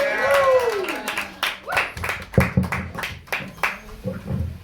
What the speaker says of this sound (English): You guys clap it up for Alex Grubard.